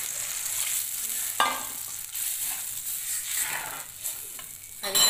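Chopped onion frying in a pan with a paste of tomato, turmeric and green chilli, giving a soft steady sizzle broken by a few stirring scrapes, fairly quiet and with nobody talking.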